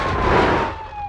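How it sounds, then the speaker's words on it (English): Police car siren in the BeamNG.drive driving game, a loud wailing tone sliding slowly downward over a car's engine rumble, close and alone for about a second. "We're going to go ahead and activate the siren."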